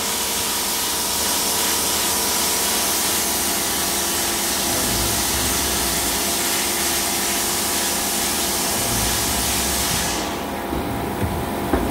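A stainless steel vapor blaster cabinet runs with its pump, a loud, continuous hissing spray over a steady mechanical hum, with a faint low motor drone, sustained throughout before the high hiss drops away near the end.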